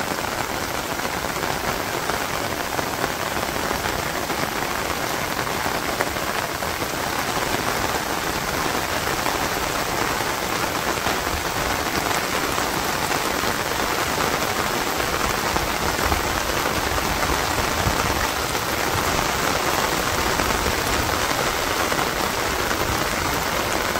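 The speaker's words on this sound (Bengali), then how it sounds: "এই হচ্ছে আমাদের বৃষ্টিটা একটু দেখেন।" Steady rain pours down in a rural village on a rainy day, a loud, dense, unbroken hiss of drops striking surfaces all around, with no one speaking.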